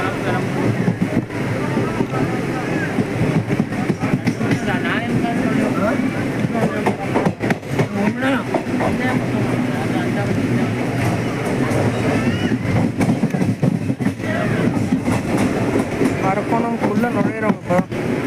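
A passenger train rumbles and clatters into Arakkonam with steady wheel noise and wind buffeting, loud and close from inside the coach, while someone talks over it throughout.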